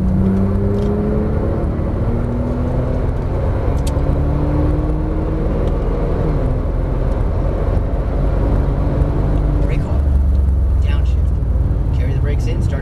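A Porsche 911 Turbo S on a Las Vegas racetrack: a steady engine drone with shifting pitch as it accelerates, heard from inside under a constant wind and road roar, with an instructor talking over it.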